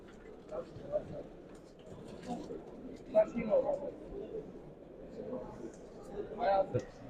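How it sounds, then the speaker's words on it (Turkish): Pigeons coo softly in the poultry area of an agricultural fair, with low murmuring calls repeating under a voice and crowd noise. "Severseniz güvercinleri falan bakın."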